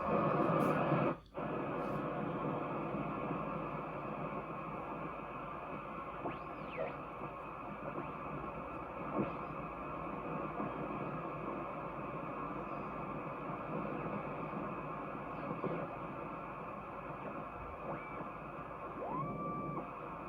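Hiss and crackle from a Hammarlund HQ-100 radio receiver being tuned, a dense steady bed of static broken by faint sweeping whistles and brief tones, with no voices.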